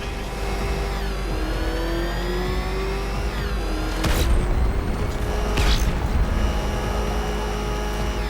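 A revving Batmobile engine in a Batman video game, a sustained mid-pitched motor drone with rising and falling pitch sweeps, punctuated by two loud booming impacts partway through.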